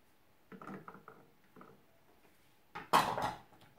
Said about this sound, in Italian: Adesso posizioniamo la farfalla